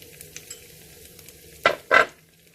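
Coriander powder, cumin powder and ground spice go into a sizzling pan for a vegan tofu biryani, with a faint fry under two quick, loud stirring scrapes near the end.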